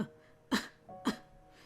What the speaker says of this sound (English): He laughed softly, but it petered out to a weak cough.